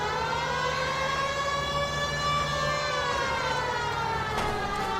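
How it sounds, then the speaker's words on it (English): A police car siren wails steadily in the LA Noire video game, a loud, continuous rising and falling tone that carries through the whole stretch with no talk over it. "he just turned on the sirens too"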